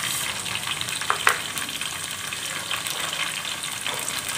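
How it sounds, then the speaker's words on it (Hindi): Mustard seeds crackle in hot oil, with a dense sizzle and scattered sharp pops, close and fairly loud throughout. "टीस्पून तेल हमारा गर्म हो चुका है। पहले मैं डाल रही हूँ राई।"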